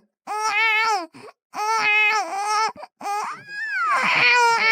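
A person imitates a newborn baby crying, producing loud, close wailing cries in several long bursts broken by brief gasping pauses, convincingly infant-like and with no other speech.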